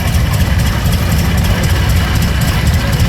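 Vintage OilPull tractor engine runs steadily as it is driven past at a threshermen's show, a loud, continuous low rumble with no talking.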